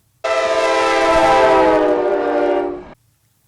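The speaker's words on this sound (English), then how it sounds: "Train." Train horn sounding one long, loud, steady blast of about two and a half seconds, rich and harmonic, starting abruptly and fading off at the end, close by with no voices.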